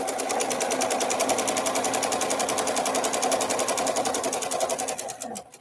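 A sewing machine runs steadily while stitching a quilt, its rapid needle chatter continuous and close for several seconds before slowing and stopping at the end.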